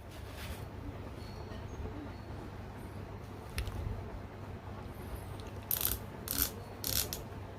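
The zero-adjustment turret on a Discovery HD 4-25x50 SFIR FFP rifle scope is turned, giving quiet, close ratcheting clicks in short bursts over a faint background hum.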